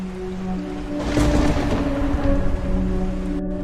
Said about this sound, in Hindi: बाहर घनघोर बारिश हो रही थी और बिजली कभी कभी कड़क कर माहौल को और भी डरावना बना रही थी।